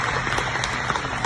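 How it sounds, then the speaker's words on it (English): Applause from the audience at a gathering honoring a two-time national champion and Heisman Trophy winner, a steady wash of claps filling the moment at moderate loudness. "Let's give him a round of applause for that."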